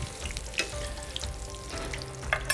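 Veal with its bone frying in oil in a pan, a close steady sizzle with crackling spatters and a few louder pops, no speech.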